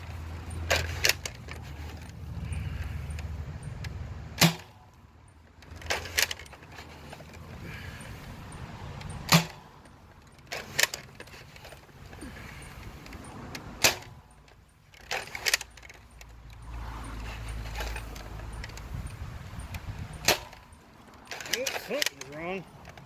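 A Nerf Longshot sniper blaster fitted with an upgraded 18.5 spring, being primed and fired: a series of sharp mechanical clacks and snaps spaced every second or two, with talking and rustling between the shots.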